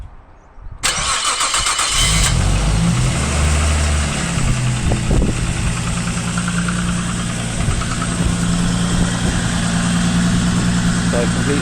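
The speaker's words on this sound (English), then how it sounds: "So complete start from cold." A Nissan Stagea's RB25 engine cranks and fires from cold, then settles into a loud, steady idle with a slightly uneven knock-like patter, close to the car throughout.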